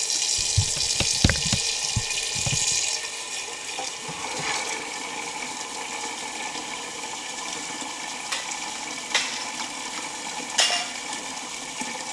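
Tap water runs steadily into a pot of dry beans, with a few clunks and knocks near the start, then a continuous rushing stream with occasional small clinks.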